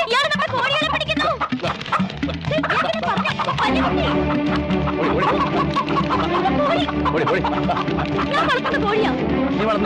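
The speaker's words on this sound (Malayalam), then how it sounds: "കോഴികളെ പിടിക്കുന്നു." Hens clucking and squawking as they are chased and caught, the flurried calls buried under a dense, continuous wash of music and voices throughout.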